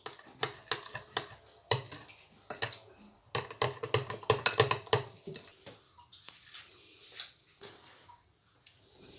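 A spoon stirs a spice paste of red chilli powder and seasonings for chicken pizza in a small bowl, giving rapid bursts of close, sharp clinks and taps that thin out into softer, scattered scraping, with no talking.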